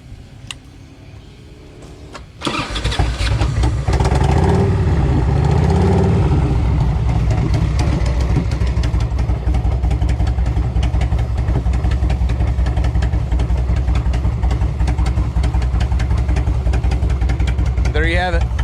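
A 1998 Harley-Davidson Electra Glide Classic motorcycle engine cranks and fires, then settles into a loud, lumpy, steady idle that runs for over fifteen seconds, close up, with a person talking over it.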